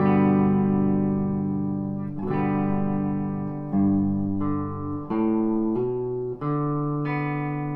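An electric guitar with effects plays a slow sequence of single notes from a song, each ringing out before the next, with a thick, slightly distorted tone.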